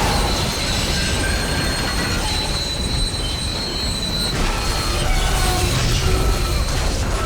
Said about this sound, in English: boarding the train we can reroute its power and get it to start moving